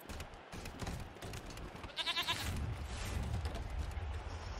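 Goats bleating in a goat pen in the video game Wasteland 3, a wavering, strong bleat cutting through a dense, noisy game soundscape, followed by a low rumbling bed.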